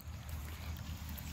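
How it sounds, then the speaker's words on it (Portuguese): Spring water flowing at a farm in the countryside, a steady low rushing wash that holds even throughout, close by and with no voices over it. "Escuta o barulho da água."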